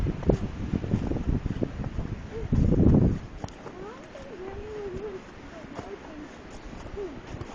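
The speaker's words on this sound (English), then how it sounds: "Wind coming across the field in a whiteout condition." Wind gusts across an open field in a snowstorm whiteout on a rural road, a soft, steady rushing with a louder burst near the middle, accompanied by faint tonal whines from a passing vehicle and a snowplow.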